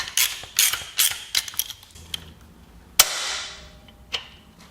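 A ratchet works on a bolt during a cam install on an Indian Thunderstroke 116 motorcycle engine, giving a run of sharp clicks and creaks followed by a few louder isolated clacks.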